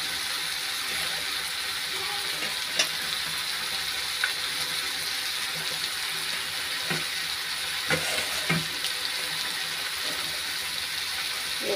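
Onion sizzles in a frying pan with a soft, steady crackle, punctuated by a few sharp clicks and taps of utensils against the pan.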